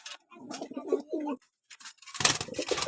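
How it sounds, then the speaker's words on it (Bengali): Pigeons, including a female, coo in soft throaty bursts up close, followed by louder rustling or fluttering near the end. "এটা মাদি খুব টেম্পার পায়রা"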